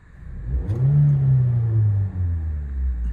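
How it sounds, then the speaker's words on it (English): A 2008 Toyota RAV4 2.0-litre petrol engine revs up once from idle, a low throaty rumble rising and holding before settling back, heard up close. "I'll give it a quick rev just so you can hear the engine"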